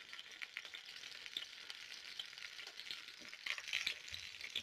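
Finely chopped onion sautéing in cooking oil in a pan on a stove gives a steady, quiet sizzle with a few faint clinks and stirring sounds, and no talking.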